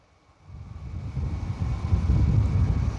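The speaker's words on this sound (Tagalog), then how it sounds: "So mahangin ngayon." Wind buffets the microphone over a farm in Manning, Alberta, a low rumbling roar that swells after the first half second and keeps building, steady and close with no voices.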